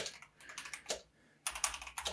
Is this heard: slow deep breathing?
no